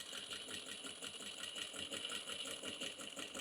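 A sewing machine runs steadily, stitching a short stitch length right along the edge of a fabric bag, its fast even needle rhythm clear and close with no talk.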